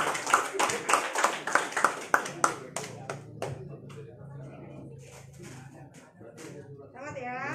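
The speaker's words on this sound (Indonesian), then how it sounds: "Tepuk tangan yang meriah untuk kita semua." Applause at an Indonesian election-supervision certificate and award ceremony: a quick run of sharp, close handclaps that thins out after a few seconds, followed by talk and background murmur.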